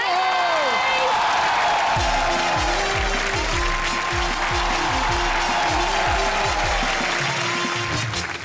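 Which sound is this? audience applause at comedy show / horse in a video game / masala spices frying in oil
audience applause at comedy show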